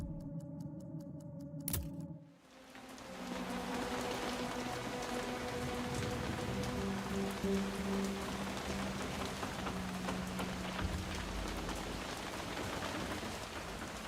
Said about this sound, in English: Wow, look at that rain.